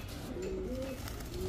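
Teddy pigeons coo in a pen, a soft, low cooing held under steady background noise, with no talking over it.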